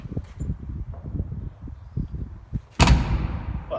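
A classic Mini's self-shutting car door closes with a sharp, solid thud after a few seconds of low rustling and muffled movement.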